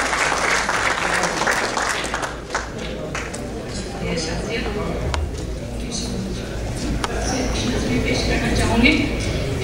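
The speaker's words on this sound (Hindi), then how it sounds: "पुरजोश तालियों में इस्तकबाल कीजिए डॉक्टर शमसा कुरैशी साहब" Enthusiastic audience applause welcomes poet Dr. Shamsa Qureshi at an Urdu poetry mushaira in Richardson, Texas, as a sustained dense clatter of clapping that swells and carries on under a spoken voice.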